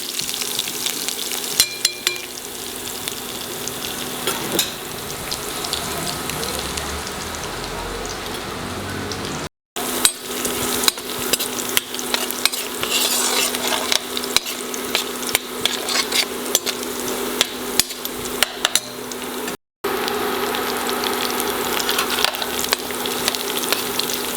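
Chopped garlic, one pod's worth, sizzles steadily in a hot pan while being stirred, a continuous crackling fry with light scraping of the spoon, close and fairly loud with no talk.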